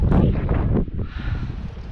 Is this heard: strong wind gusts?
yes